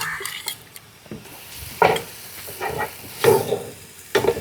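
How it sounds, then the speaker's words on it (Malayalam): Finely chopped tomatoes going into frying masala for a Bhatkal chicken biryani: soft sizzling under intermittent scraping and clinks of a spoon stirring against the pan, with a few sharper knocks close by. "നമ്മൾ 2 വലിയ തക്കാളി ഇങ്ങനെ കുനുകുനുവിനെ അരിഞ്ഞത് ഇടുന്നു"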